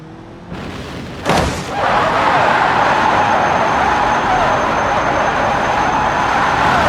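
In the BeamNG Drive video game, a Lada Vesta accelerates at extreme speed. A sharp thump sounds early on, then a loud, sustained, steady roar of wind and engine continues to the end, with no talking.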